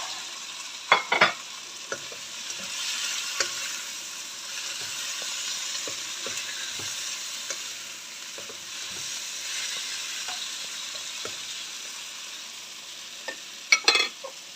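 Meatballs frying in a pan with a little tomato paste, a steady soft sizzle running throughout with occasional clinks and stirring scrapes, louder utensil knocks near the start and end.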